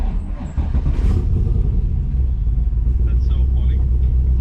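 Low engine rumble from a Mazda RX-7 FD sports car, steady and loud throughout, heard from inside the car with a brief rustle near the start.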